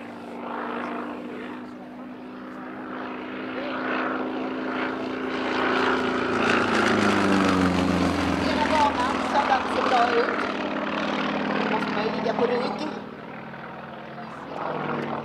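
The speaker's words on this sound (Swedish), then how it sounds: "där flygplanet stegrar sig nästan 90 grader uppåt från" A Sukhoi Su-31 aerobatic propeller plane climbs steeply at an air show, its engine drone rising and swelling loudly in the middle before easing, with a commentator talking over it.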